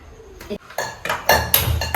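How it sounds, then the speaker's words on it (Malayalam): A metal pot is set down on a stove with a few sharp clanks and clinks, loud and close, followed by brief rattling of pans. "ആദ്യം ഇതേപോലത്തെ ഒരു പാത്രം എടുത്തിട്ട് അടുപ്പത്ത് വെക്കാം"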